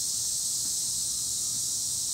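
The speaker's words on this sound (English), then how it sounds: "we'd like to introduce you to some of the local wildlife, known as the cicadas" Cicadas drone in a continuous, dense, high-pitched buzz that holds steady without a break, loud and close, with no other sounds apart from a faint low rumble.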